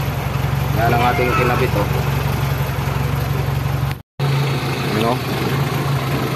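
A Toyota 4K engine idles steadily with a low, even hum after an electronic distributor is fitted in place of the contact-point one, while someone talks over it nearby.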